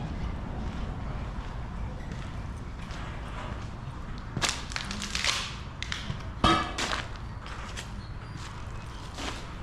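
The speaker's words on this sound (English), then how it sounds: "It's getting windy out" Gusty wind blows across the open grounds of an abandoned 1800s farmhouse with outbuildings, a low, rushing roar with sharp buffeting bursts and rattles against the microphone.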